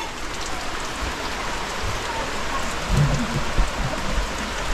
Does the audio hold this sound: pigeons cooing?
no